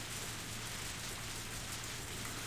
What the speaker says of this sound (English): I heard the sound of rain pattering the rooftop and the raindrops jumping into puddles.